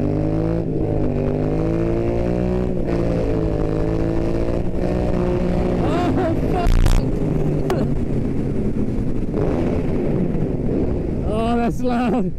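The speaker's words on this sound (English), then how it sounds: "That's a goddamn fast car." A fast car revs hard and roars past at close range, its loud engine note rising and falling, with riders on motorcycles talking over the noise.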